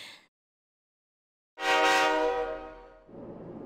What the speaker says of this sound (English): Inside the new city passenger train, Anahazuru.